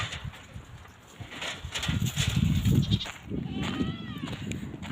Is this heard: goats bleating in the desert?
yes